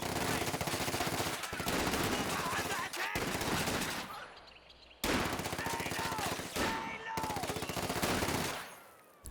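Dense video-game gunfire as Fallschirmjäger ambush a squad of riflemen: continuous loud machine-gun bursts and rifle shots layered together, with two brief drops in intensity before the firing resumes.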